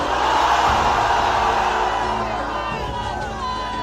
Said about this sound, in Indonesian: Teriakkan takbir yang paling ikhlas dan paling keras.